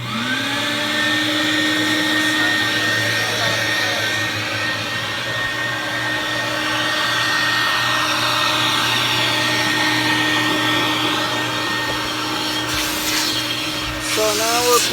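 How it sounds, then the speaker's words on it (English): A vacuum for cleaning car carpet spins up to a loud, steady whine and drones on continuously, with brief rubbing and scraping noises near the end. "So I'll start with my pump and then the vacuum."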